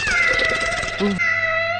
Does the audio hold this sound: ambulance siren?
no